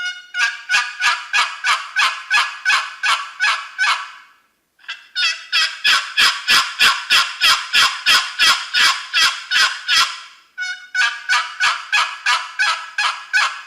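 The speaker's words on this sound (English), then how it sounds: "And you can hear the true turkey tones that come out of that call." Yelping from a Crossland Jezebel black walnut turkey box call, heard as three loud, close runs of rapid, evenly spaced raspy notes. The runs are split by brief pauses, and no voices are heard.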